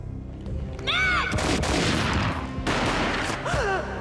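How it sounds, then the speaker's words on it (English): Gunfire from the video game Max Payne fills the clip: a loud, continuous fusillade of overlapping shots and booms with short whistling tones, carrying on without speech for about four seconds. "A gunshot boomed and she fell down in slow motion"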